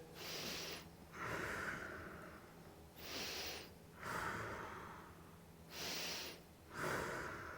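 Slow, deep breaths taken during a morning stretching routine, each inhale and exhale drawn out over about a second and repeating in a steady rhythm, close and fairly quiet.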